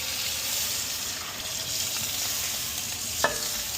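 Water hits a hot Our Place Titanium Always Pan Pro just off the stove and sizzles with a steady, loud hiss throughout, with a brief clink near the end.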